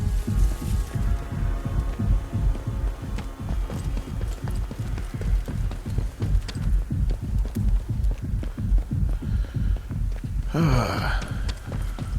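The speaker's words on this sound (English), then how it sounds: "Yeah, the old heartbeat's kind of cool. Neat little mechanic in the game, right?" Steady thumping heartbeat effect in the video game Atomfall, a regular low pulse repeating about once a second throughout, with a brief airy breath-like sound near the end.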